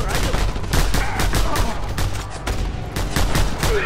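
Sniper gunfire in the open-world action game Just Cause 2, with a fast series of sharp cracks and bursts mixed into loud battle noise and a voice speaking over parts of it.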